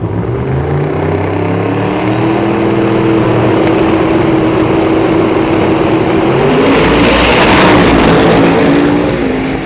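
Turbocharged drag car engine roaring loud and close, holding a steady drone that climbs in pitch, then a rising turbo whine near the end.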